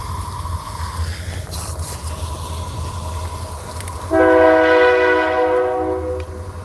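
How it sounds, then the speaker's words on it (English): A train horn blasts loudly in the middle distance for a few seconds over the steady low rumble of a passing train, then slowly fades. "I hear a train a-comin'"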